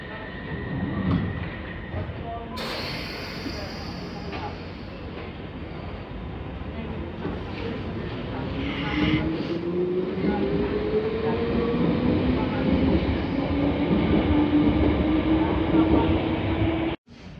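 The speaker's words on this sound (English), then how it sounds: "Train now arriving on platform 1 is the District Line service to Ealing Broadway." A London Underground District Line train pulls into a platform with a steady loud rumble and a rising motor whine that keeps climbing, while voices and an announcement sound over it.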